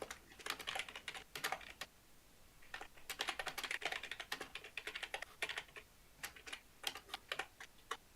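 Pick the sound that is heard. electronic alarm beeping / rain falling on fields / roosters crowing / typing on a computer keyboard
typing on a computer keyboard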